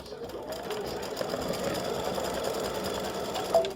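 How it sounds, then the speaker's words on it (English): Embroidery machine stitching a dark green shamrock, a steady rapid mechanical chatter running continuously at close range without talk. "it's going to stitch the shamrock in dark green"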